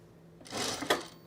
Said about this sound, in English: And then my bobbin finished right at the same moment, so it sounded a little dramatic.